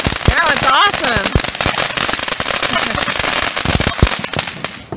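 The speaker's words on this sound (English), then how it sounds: "TNT fireworks, everybody." TNT consumer fireworks at an Independence Day celebration, a rapid barrage of sharp loud bangs and crackles crowding together, with people's excited voices woven through the bursts.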